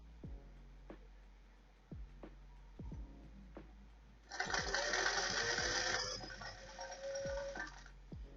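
A sewing machine stitches stretch fabric for a mixer cover. A few faint taps come first, then the motor whirs loudly and steadily for about four seconds before easing off.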